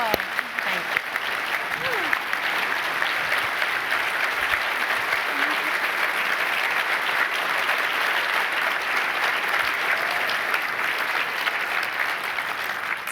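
A large audience at the Sodexo Foundation Stephen J. Brady Stop Hunger Scholars ceremony gives a scholarship winner sustained, even applause, dense and steady for a long stretch with faint voices beneath.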